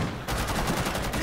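Rapid gunfire from the video game Rainbow Six Siege in its Outbreak mode: loud, dense bursts of shots crackle almost continuously, close up, with no voices over them.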